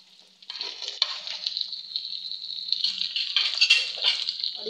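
Grated ginger fries in a pan for dosa, giving a bright, steady close sizzle with a few stirring scrapes and bursts as it cooks.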